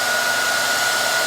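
A heat gun blows a steady, loud hiss with a faint whine on top while warming a scuffed plastic fender on a Saturn Sky Redline / Pontiac Solstice GXP in a garage.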